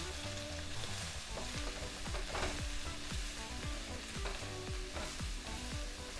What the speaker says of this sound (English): We're gonna give that a few minutes to saute.